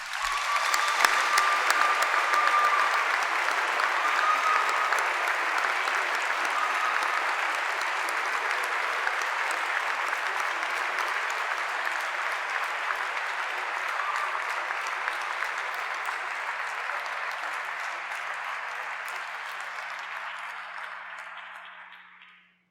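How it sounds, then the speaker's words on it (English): A large audience at a university commencement ceremony applauds in one sustained, even wave of clapping that fades away at the end. "Please join me in a round of applause."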